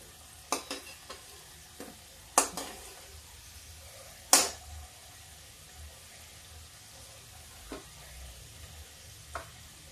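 Pea-stuffed kachoris fry gently over a low flame, a faint bubbling sizzle punctuated by a few sharp clinks and taps from a utensil, close and sparse.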